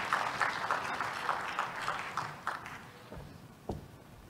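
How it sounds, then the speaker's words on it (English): Scattered conference audience clapping, fairly faint and thinning out, with a few isolated claps trailing at the end. "Let's give him a round of applause as he closes us off."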